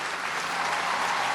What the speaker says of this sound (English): people are just absolutely cheering